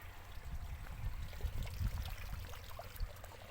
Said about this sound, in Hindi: ये देखें पानी अभी आ रहा है